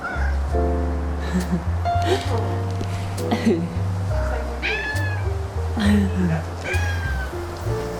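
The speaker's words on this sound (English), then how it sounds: "Oh, hey, kitty cat." A friendly cat meows repeatedly outdoors in Louisiana, each cry rising and falling, with people talking to it and music playing underneath.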